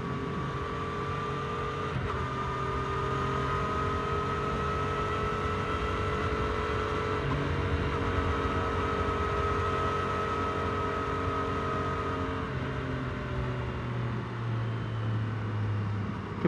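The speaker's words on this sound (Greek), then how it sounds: "Εμένα μου αρέσει πολύ ο ήχος της τρικυλίνδρης" A 2022 Triumph Street Triple R three-cylinder engine drones throughout, holding a low, even hum with a gentle pitch shift near the end, close and constant with no talking.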